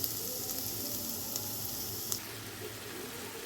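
Spice paste with Kashmiri chilli powder for a Bengali prawn curry frying in a pan, a continuous bright sizzle with a couple of light stirring clicks, no voices.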